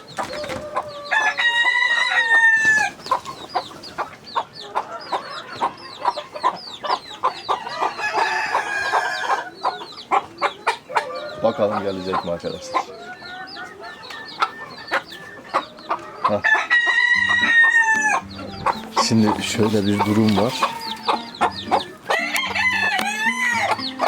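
Gurk hen with her chicks at a coop door, letting out repeated loud rooster-like crows and steady clucking throughout, with someone talking quietly in between.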